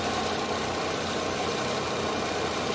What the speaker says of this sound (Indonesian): Jadi di mobil Blazer ini supercharger baru bekerja di RPM atas, RPM bawahnya masih standar, belum bekerja.